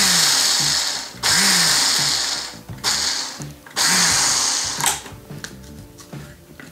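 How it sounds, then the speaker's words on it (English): A Ninja food processor grinds rolled oats in a single-serve cup, a loud whirring roar in several bursts with brief pauses between them, the pitch dipping as the blades bog down before the motor cuts out near the end. "if you have a Ninja or a food processor, just throw it in the single serve cup and grind it up"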